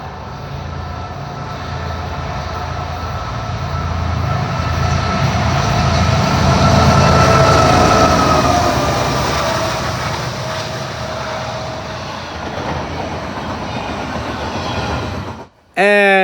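Norfolk Southern freight train passing with locomotive NS 1072 trailing a GE Evolution unit, a loud rumbling roar and rolling wagon noise that swells and slowly fades before a sudden cut.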